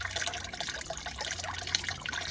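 Fluid trickling out of the oil filter housing while servicing a 2017 VW Transporter T6 2.0 diesel, a faint, steady liquid dribble with small drips, close and quiet, no talking.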